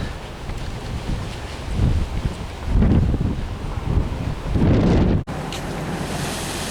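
Ocean surf surging at a spouting horn on a rocky South Pacific coast, a loud rushing roar that swells in waves under heavy wind buffeting, then cuts off abruptly into a steadier windy wash.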